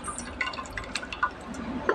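Cooking water is poured off boiled tomato and brinjal dal into a bowl, a soft continuous trickle with small drips and splashes, close and fairly quiet.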